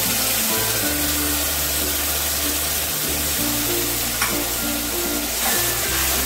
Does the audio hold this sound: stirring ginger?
yes